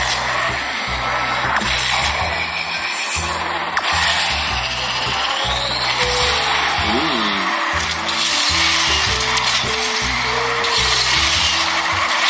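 Engine whine and tire-skid effects come from a BMW car racing in the mobile game Asphalt 9, played on a Pocophone F1 smartphone. Gear-change pulses repeat in rhythm over background music, and a voice talks over it.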